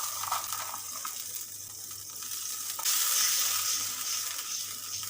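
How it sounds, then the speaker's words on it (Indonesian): A Worcestershire sauce mixture with a little water, mushroom broth, salt, pepper and sugar simmers in a pan while being stirred, giving a steady bubbling sizzle with stirring scrapes that swells slightly partway through, with no talk. "Nah, ini udah mulai mendidih,"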